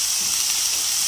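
Boiled, shredded chicken with spices, salt, black pepper and chaat masala sizzles steadily in a pan, a bright continuous frying hiss with no other sounds.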